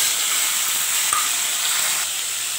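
Potatoes frying in hot oil tempered with cumin and black cumin for aloo posto, making an even, hissing sizzle with a single soft clink partway through, close and steady, with no talking.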